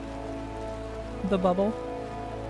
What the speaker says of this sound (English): Staying dry in the rain.